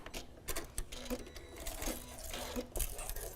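A sewing machine runs straight stitches along the edge of a fabric napkin, a close, fast mechanical chatter with quick needle clicks and short pauses and restarts.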